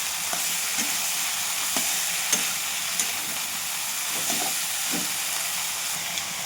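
Sliced ridge gourd stir-fries in a pan with cooked-down spices, giving a loud continuous sizzle and hiss with repeated scraping stirs of a spatula, close and with no voices.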